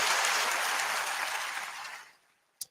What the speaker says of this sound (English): That's worthy of applause too, by the way.